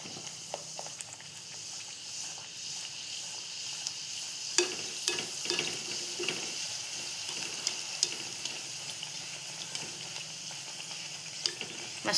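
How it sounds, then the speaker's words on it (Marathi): Puris deep-frying one at a time in hot oil in a kadhai, a steady broadband sizzle throughout with scattered sharp pops and crackles, close and moderately loud, no talking. "इथे तापलं तेल, तापलेलं आपण पुऱ्या सोडून घेऊया एक एक करून"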